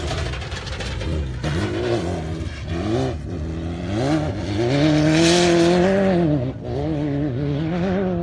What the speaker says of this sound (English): Here comes the Cheneth car.